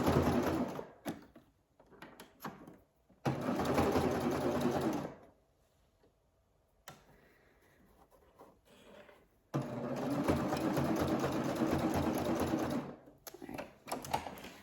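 A serger sewing machine stitches fabric for a gathered peplum dress in loud whirring bursts of a few seconds each, stopping between runs while a voice talks quietly in the pauses.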